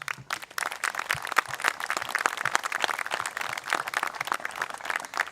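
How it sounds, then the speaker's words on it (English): Applause from an outdoor crowd at a 9/11 memorial service in Kitsap, a steady patter of many hands clapping at moderate distance, continuing throughout. "let's give them a round of applause"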